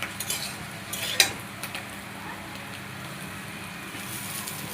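A utensil scrapes and stirs fried rice in a pan with a soft background sizzle, including one sharper metallic clink early on.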